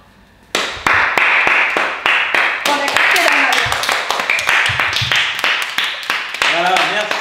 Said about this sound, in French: je voudrais qu'on se mette debout et que tous les trois on applaudisse les professionnels de santé